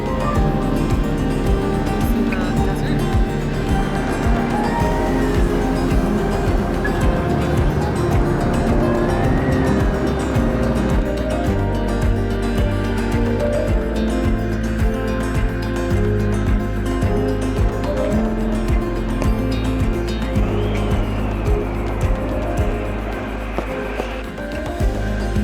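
Cabin noise fills a four-engine aircraft in flight to Antarctica, a loud steady drone with a low rumble and sustained engine tones throughout.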